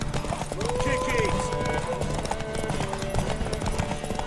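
Horse hooves clip-clop in a quick galloping rhythm in The Witcher 3, the close, steady beats running under people talking loudly and urging the horse on.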